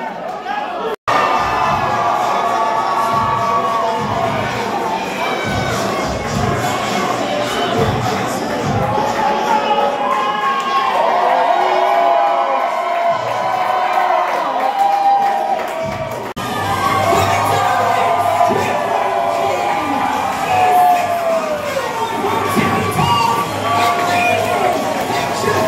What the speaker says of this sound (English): The crowd's feeling it.